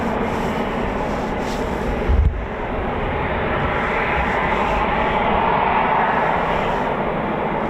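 RAF Eurofighter Typhoon FGR4 jet of 29 Squadron at RAF Coningsby at night, a loud, steady roar of jet noise with a brief thump partway through, close and unbroken.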